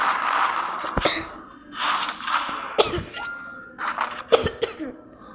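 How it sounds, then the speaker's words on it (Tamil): A person coughs several times nearby, harsh rasping bursts spaced a second or so apart. "எனக்கு வேறு இருமல் இருக்குது."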